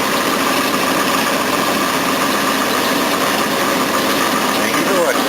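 Jaguar engine idling after a drive plate repair, a loud, steady, close rumble with no clattering, holding an even drone throughout.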